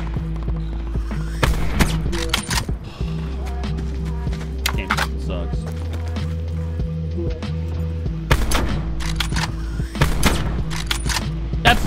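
Rapid gunshots in a battle royale shooter, sharp cracks in bursts and single shots over a steady droning game tone, with someone talking in between.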